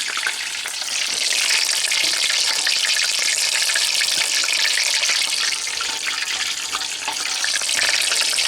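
Maypop poppers fry in a hot pan, giving a dense, steady crackling sizzle that stays loud and even throughout with no talking.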